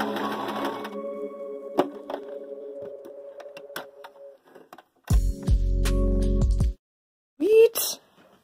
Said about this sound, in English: now I'm going to start sewing them in stripes, actual stripes